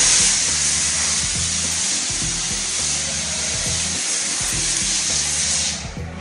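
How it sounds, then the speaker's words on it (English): A spray plastering machine forces plaster out of a handheld gun in a loud, continuous hissing blast, with a rhythmic pumping thump underneath, cutting off just before the end. "This is the spray plastering right here."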